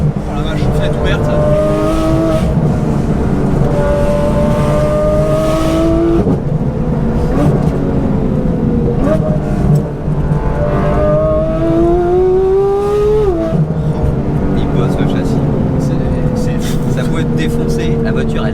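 A Porsche GT3 fitted with an HRE exhaust drives a badly broken road, engine loud and close with rising and falling revs and shifting gear pitches throughout, heard with the window open.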